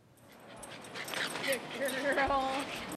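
Adoptable dogs at an outdoor adoption event outside a Tractor Supply store whimper and yip softly, with a continuous hum of crowd and background noise around them.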